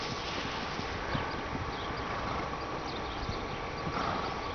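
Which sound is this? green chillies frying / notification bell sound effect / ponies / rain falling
ponies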